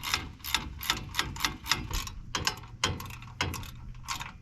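Rapid ratcheting clicks from a wrench tightening a nut on a bolt of a fire-damaged jon boat's hardware, coming in close, quick bursts with brief pauses between strokes, no talking.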